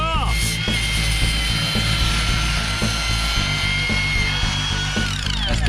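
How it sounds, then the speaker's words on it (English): A cordless Restorer power tool sands the bumper horns on a Volvo, a loud continuous whirring drone with steady rhythmic pulsing throughout, up close, with brief talk mixed in. "Let's sand bumper horns on the Volvo."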